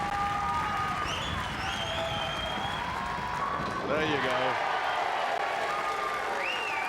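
Snooker fans at a 2008 match between Dom Barrett and Tommy Jones applaud in a steady, sustained wash of clapping, with a commentator talking over it.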